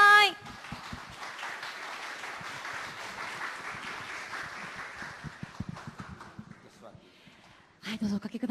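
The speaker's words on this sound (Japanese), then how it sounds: "どうぞ大きな拍手でお迎えください。" Audience at a talk session applauding as a guest walks on, moderate clapping that builds and then thins out, framed by a brief sound at the start and people talking at the end.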